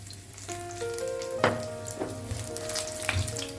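Five cloves of garlic and six dried red chillies fry in hot oil for a Kerala-style chutney, giving a close, steady sizzle with a few sharp crackles and spatters.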